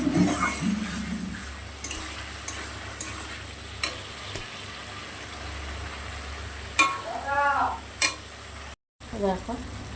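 Spice masala with chili powder being stir-fried in a pan, a steady sizzle broken by repeated scraping strokes of a spatula and a few clinks of metal.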